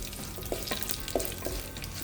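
Dried red chillies and popped mustard seeds frying in hot oil for a sprouted spinach stir-fry, a soft steady sizzle with a few quick crackles and light stirring taps, close and without talk.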